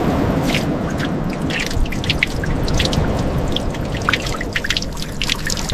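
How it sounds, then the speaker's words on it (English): Water is flushed through the salt-caked seams of a 1970 Dodge Charger R/T pulled from the sea, a steady close pour and trickle with scattered splashing drips throughout. "Flushing salt from the seams."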